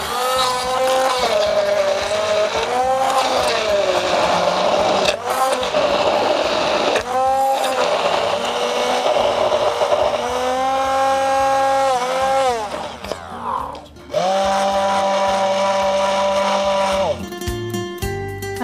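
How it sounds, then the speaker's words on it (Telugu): A kitchen blender whirs through an oats breakfast mixture with olive oil, its motor whine rising and falling in pitch through several bursts, with brief pauses and restarts. "ఇప్పుడు మనం ఇది బ్లెండ్ చేసుకోవాలి."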